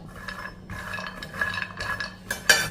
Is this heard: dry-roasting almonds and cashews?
yes